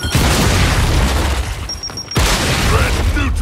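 A frag grenade blast in a video game: dense, loud booming rumble that briefly drops out with a thin tone, then resumes, with faint game voices near the end.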